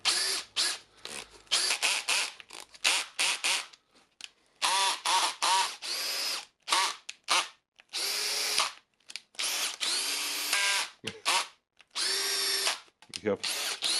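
Bosch cordless drill revving at full speed in repeated bursts of a few seconds each, a loud close whine starting and stopping with short silences between, occasional faint voice in the gaps.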